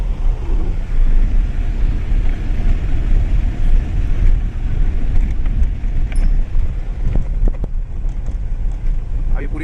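A car drives along a rough jungle road near Panna Tiger Reserve in Chhatarpur, a continuous close rumble of engine and tyres with wind buffeting throughout and occasional faint voices.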